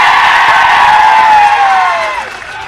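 A large crowd cheers and whoops at Aaditya Thackeray's election rally in Dharashiv, a loud sustained roar with a rising whistle-like tone that slowly fades toward the end.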